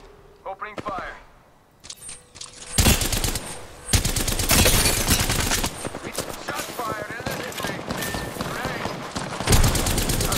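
Gunfire in the video game Apex Legends after a rooftop drop: a quiet start gives way to loud, rapid automatic bursts and scattered single shots that keep up almost nonstop, with brief pauses between volleys.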